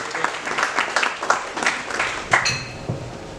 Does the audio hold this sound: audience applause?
yes